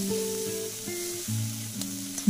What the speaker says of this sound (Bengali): মশলাটা একটুখানি ভালো করে ভেজে নিচ্ছি।